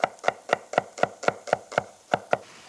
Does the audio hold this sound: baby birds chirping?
no